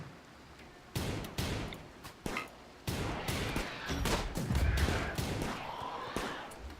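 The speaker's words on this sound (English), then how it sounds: "are you shooting at the turrets?" Turrets in the colony game Rimworld fire in bursts of loud, sharp gunshots, some single and some overlapping into rapid volleys, with the shooting growing denser and more continuous in the second half.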